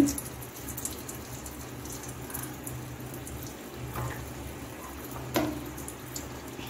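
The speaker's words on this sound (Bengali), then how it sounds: "লোতে রেখে এখন আমি খাজাগুলি ভেজে নিচ্ছি" Khaja pastries deep-fry gently in oil over a low flame, a soft continuous bubbling fizz at moderate level with an occasional clink near the start and midway, no voices.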